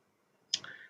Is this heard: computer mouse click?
yes